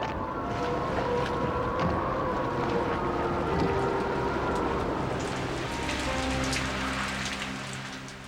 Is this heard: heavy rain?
yes